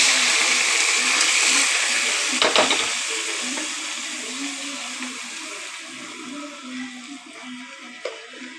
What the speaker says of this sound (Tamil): இந்த மாதிரி வேக வச்சுருக்க பருப்பு தண்ணி இதில் ஊற்றிக்கணும்.